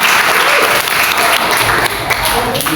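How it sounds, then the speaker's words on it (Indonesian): A classroom group gives loud, sustained clapping during a student political education project session, the hands rattling evenly from start to finish with a brief dip near the end. "Ya, tepuk tangan."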